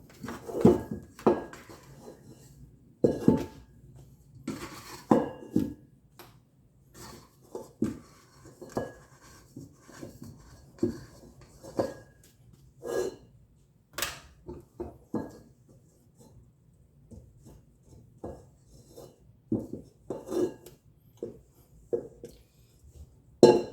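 Buttery brioche dough is worked out of a mixing bowl, with scattered clinks, knocks and scrapes against the bowl coming in irregular bursts between quiet gaps.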